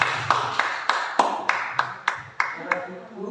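A small group claps after a talk, about ten sharp distinct claps spaced evenly across a few seconds, fairly close, with faint murmuring voices underneath.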